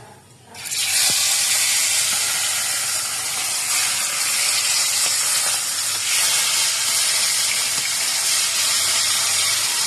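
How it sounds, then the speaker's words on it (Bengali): Hilsa fish fries in a pan. A loud, steady, hissing sizzle starts abruptly and carries on close and unbroken, with faint crackles and no talking. "ইলিশ মাছ ভাজা সেই মজা"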